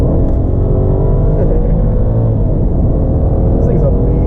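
BMW E60 550i at full throttle, a loud, sustained engine roar heard from inside the cabin with a rising tone, and a voice talking over it.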